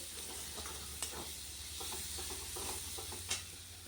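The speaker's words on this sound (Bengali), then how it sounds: "পেঁয়াজটা ভেজে মশলাটা কষিয়ে নিয়েছি" Onion with ginger-garlic paste and green chilies cooking in a pan, a soft continuous sizzle with occasional stirring scrapes and light clinks, close but fairly quiet, low hum underneath, no speech.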